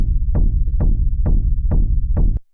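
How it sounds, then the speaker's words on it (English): Raw techno kick drum slammed into a limiter, five dense, loud, distorted hits in a steady pulse over a constant rumbling low drone, playing alone before cutting off abruptly. "And then after that, I kind of slammed it into this limiter"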